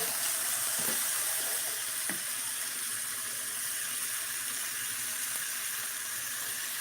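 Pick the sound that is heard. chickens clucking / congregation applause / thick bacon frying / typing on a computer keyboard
thick bacon frying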